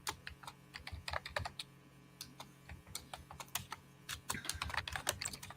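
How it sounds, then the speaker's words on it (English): Rapid clattering keystrokes on a computer keyboard, quick irregular bursts of clicks over a low steady hum, fairly faint as if picked up from across a room. "I hear Russell typing"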